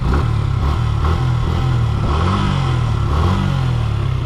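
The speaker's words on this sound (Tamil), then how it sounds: "சைலன்சர் கிட்டால் வந்தோம் அப்படின்னா நமக்கு அந்த பீட் நல்லாயிருக்கு, கேட்கும்னு நினைக்கிறேன் உங்களுக்கு" Suzuki Gixxer SF motorcycle exhaust heard up close near the silencer, a loud steady low engine beat with slight revving swells and no talking.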